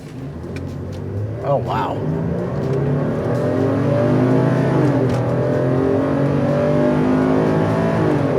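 Ford Police Explorer floored from idle, its engine rumbling then climbing steadily in pitch under full throttle, loud and close, with a brief exclamation spoken near the start.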